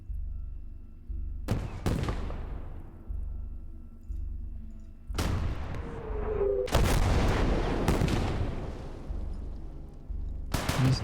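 Sniper rifle fire in Gates of Hell: Ostfront, a World War II game set on the Eastern Front in muddy Rasputitsa conditions: four loud, sharp cracks with rolling echoes, widely spaced over a low battlefield rumble.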